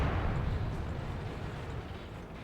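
A heavy tank cannon fires in World of Tanks, a loud, close, booming blast that fills the short stretch and slowly rolls off into rumbling decay.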